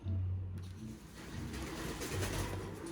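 Pet pigeon or dove cooing indoors, low repeated hums in a steady run over a constant noisy background, close to the microphone.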